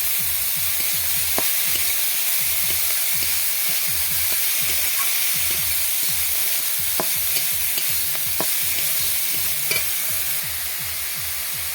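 Leafy greens seasoned with salt and turmeric fry in a pan while being stirred. A loud, steady sizzle runs under rhythmic scraping strokes of a spatula, close up and without speech.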